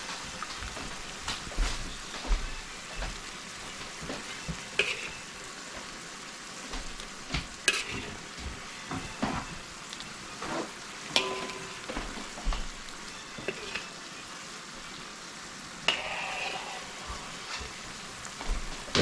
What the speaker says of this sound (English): This is boiling up pretty nice here.